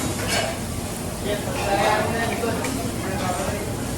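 Vegetables stir-fried on a teppanyaki grill at a Japanese restaurant: a steady close sizzle with spatula scraping and clinking against the hot plate throughout, while people talk over it.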